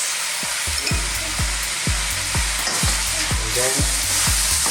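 Chicken chow mein noodles are stir-fried in a pan, a loud, close sizzle broken by a steady rhythm of about a dozen spatula scrapes and knocks against the pan, while a voice speaks briefly.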